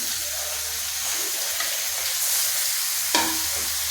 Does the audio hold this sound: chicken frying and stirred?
yes